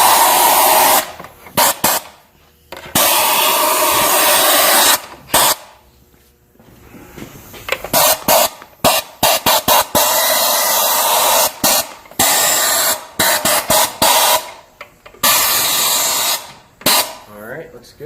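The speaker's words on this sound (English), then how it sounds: "we got the handy air-powered vacuum" Air-powered vacuum draws metal shavings out of a BMW S1000RR motorcycle in a shop, loud hissing bursts starting and stopping repeatedly, some long blasts and many short rapid pulses, with brief quiet gaps between.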